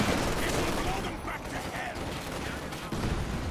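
Company of Heroes 2 battle on Amelie Fields, Rangers against Wehrmacht troops: a bundle grenade blast amid rattling rifle and machine-gun fire, dense and continuous with a fresh burst near the end, with a commentator talking over it.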